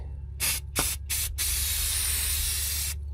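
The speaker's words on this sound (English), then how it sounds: "I cleaned it up and spray some paint on it and then put it back together" Spray paint hissing from an aerosol can onto a part from a Ford 7.3L diesel engine, starting in three short close bursts and then running as one long steady spray before cutting off near the end.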